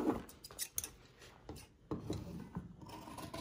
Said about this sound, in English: So I'm just simply cutting around the line that I've drawn right there.